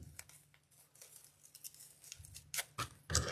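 Scissors snip through stiff floral picks being trimmed to length for a fall table runner centerpiece, a few short, close crisp cuts with faint rustling of stems in between and no talking.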